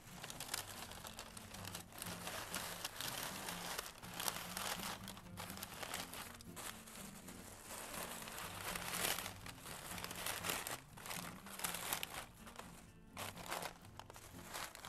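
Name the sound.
black tissue paper crinkling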